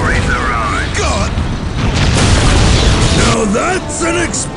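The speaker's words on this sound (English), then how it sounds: "Now that's an explosion!" A heavy boom bursts out amid loud battle noise, with voices shouting over the rumble, as a Necron monolith is destroyed in the PC game Dawn of War: Winter Assault.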